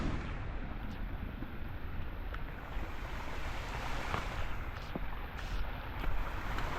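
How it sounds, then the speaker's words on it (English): Flooded creek rushing in the rain, a dense steady roar of flowing water with occasional splashes, close and continuous without talk. "Got the little river flowing."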